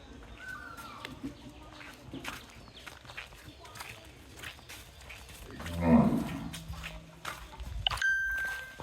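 Two young white bull calves on a farm: one loud, low moo rises midway through the clip over quiet outdoor ambience with a few bird calls.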